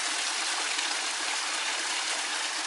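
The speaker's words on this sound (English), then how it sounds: "that's the Fuente Madre del Agua Cascada" Fuente Madre del Agua waterfall in Tenerife pours in a steady, close hiss of rushing water, unbroken and alone with no voices.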